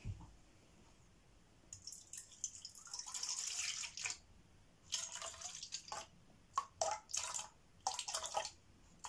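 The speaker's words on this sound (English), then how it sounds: "Bet you've never poured milk into a bowl like this before." Milk is poured into a bowl while making chocolate chunk muffins, giving intermittent splashing, trickling bursts of liquid at a moderate level with quiet gaps and no talk.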